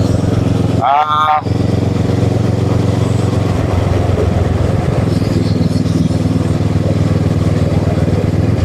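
A Kawasaki ER6N motorcycle engine drones steadily throughout while being ridden on a road, a continuous mid-pitched hum with a person talking over it.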